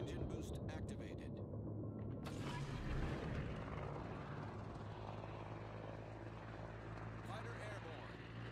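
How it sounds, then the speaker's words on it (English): A carrier-launched propeller fighter plane takes off during a World of Warships ranked battle, its droning engine and mechanical whir sustained beneath continuous talk and game noise. "Fighter airborne."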